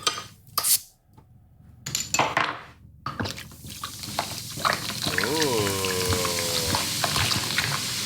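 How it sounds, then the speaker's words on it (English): Pork hock sizzling in a pot with salt and a bottle of beer just poured in, a rising steady hiss and bubbling after clattering pot handling, with a voice over the cooking. "Sizzling, right?"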